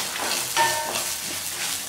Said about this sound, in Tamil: இந்த வரக்கொத்தமல்லியும் மிளகாயும் அதை வறுத்துக்கலாம்.